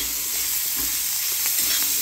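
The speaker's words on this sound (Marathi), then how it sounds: "आता जाईल याच्यामध्ये कांदा. कांदा छान परतायचा आहे मऊ होईपर्यंत." Onion frying in a pan, giving a continuous close sizzle and hiss with faint stirring, no talking.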